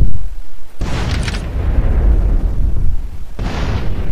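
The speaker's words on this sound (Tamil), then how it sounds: "வெடிச்சிருச்சுங்க போட்டு, பரவாயில்ல." A boat explodes in GTA San Andreas with a loud, rumbling game blast that fills the whole stretch, its bursts swelling and trailing off.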